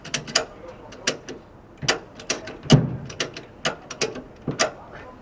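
Repeated clicking ratchet strokes as a strap is tightened to secure stone slabs on a truck, sharp close-up clacks in an uneven rhythm with a heavier clunk midway.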